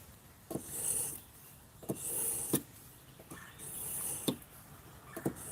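A fishing knife blade is honed with a handheld sharpening tool, making a run of close, rasping strokes, each a short scrape repeated every second or so in an uneven rhythm.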